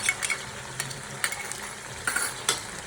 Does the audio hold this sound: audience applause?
no